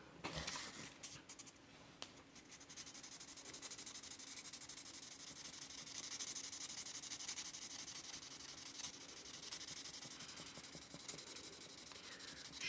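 A Bear and Son Barlow knife blade is rubbed over 1500 grit sandpaper, giving a faint, steady scratchy hiss of repeated strokes that runs quietly throughout.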